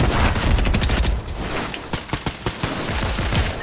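Fortnite gunfire in a video game: a dense loud volley for about a second, then a string of separate sharp shots in quick rhythm.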